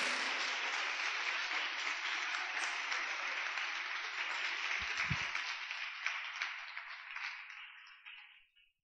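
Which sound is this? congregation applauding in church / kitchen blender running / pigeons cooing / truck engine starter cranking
congregation applauding in church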